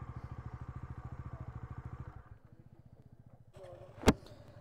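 A motorcycle engine idles with a fast, even thump at a hillside campsite, then drops away to a low putter, followed by a sharp metallic clank and a brief rustle.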